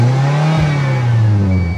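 A Lamborghini engine, newly started after an auction purchase, revs up under throttle with a loud, close, steady droning roar that swells and slightly sags over under two seconds, with no talk over it.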